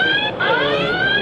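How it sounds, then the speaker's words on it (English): A lone worker alarm button sets off a shrill electronic alert, a continuous high wavering tone with a brief dip partway through, loud and close. "you can push the button and the alarm is set off"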